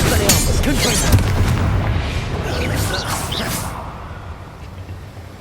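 A booming Confringo spell explosion in Hogwarts Legacy, a loud crackling blast that fades over a few seconds, with a voice casting spells over it.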